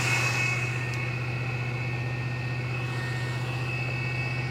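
A 1985 GMC square-body truck engine idles high with a steady, droning hum and faint whine, close and constant for a few seconds with no talking.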